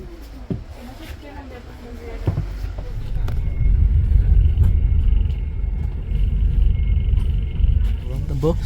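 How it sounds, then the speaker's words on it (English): A Transdev 840 Coastliner bus pulls away, its engine rumble building into a deep, steady drone with mechanical clicks and rattles, close and continuous beneath the cabin's background noise. "We're on the bus and we're off."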